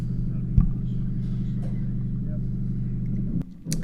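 A four-wheel drive vehicle on a forest track struggling to climb a bank with its front right wheel lifting, its engine idling in a steady low rumble up close, with a couple of knocks and a rev near the end.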